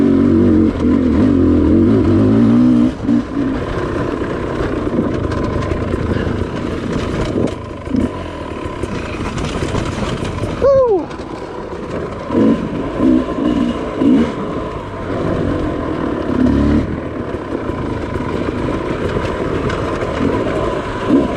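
A Sherco dirt bike lugs its engine in third gear climbing a hill, a loud, close, low rumble that surges and sags unevenly. A brief high whine sweeps down midway, and nobody talks.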